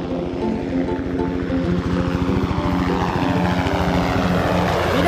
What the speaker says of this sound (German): Schau mal, der Hubschrauber fliegt davon.